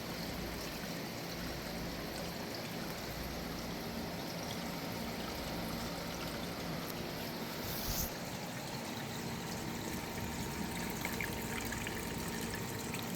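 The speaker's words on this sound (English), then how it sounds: "Got good water flow. Everything seems to be flowing nicely." Water flows steadily through a growing system, a continuous trickling stream with dripping mixed in, even and unbroken throughout at low volume.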